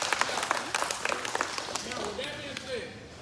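Audience applause at a speaking event on social media for realtors and entrepreneurs, a scattered burst of claps with voices and cheers mixed in, fading over a few seconds.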